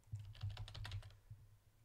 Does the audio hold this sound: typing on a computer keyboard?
yes